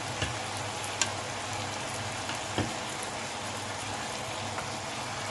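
Chicken pieces sizzle steadily in a pan of sauce with the oil or ghee rising out, giving a continuous crackling hiss with a few small pops, close and fairly quiet, with no voices.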